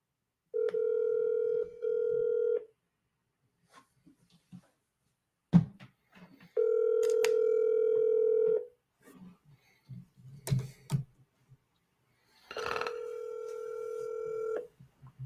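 Landline telephone after hanging up: a steady dial tone in three long stretches, separated by short dialing beeps and clicks of the handset, quiet and close with no talking.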